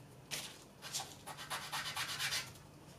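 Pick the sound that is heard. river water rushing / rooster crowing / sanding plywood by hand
sanding plywood by hand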